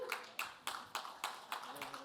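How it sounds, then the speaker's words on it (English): A few hands clapping sparsely at a talk at an NFT conference in London, about eight distinct claps in a slow, even rhythm, faint and close. "Let's give him a round of applause"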